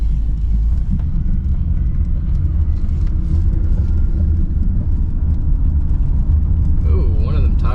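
A 1996 Mercury Cougar XR7 drives along on a bad-sounding tire, with a steady, close, low rumble of road and engine noise and a voice talking over it near the end.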